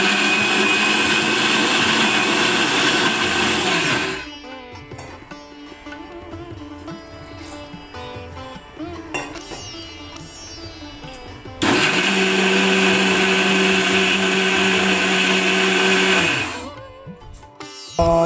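A mixer grinder whirs loudly blending mixed vegetable pickle paste with salt water, running in two bursts separated by a quieter pause with faint clinks.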